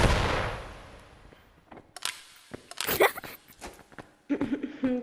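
A video-game grenade goes off in a sharp, booming burst that rolls away over about a second, followed by scattered clicks, thumps and brief game sounds.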